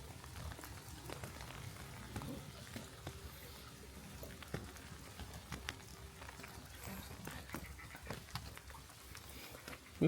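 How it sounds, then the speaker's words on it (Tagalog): Steady rain falls outdoors in the Netherlands, a dense hiss with scattered heavier drops and patter throughout, loud and continuous with no voices. "Kita kasi yung ulan."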